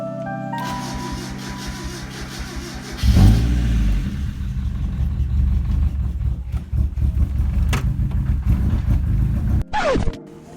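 A Mazda Miata engine fires up after a timing belt job, catching with a loud surge and then running close by with a steady, slightly rough idle before cutting off near the end.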